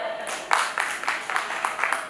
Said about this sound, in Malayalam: ഒരു കൈയടി എടുക്കോ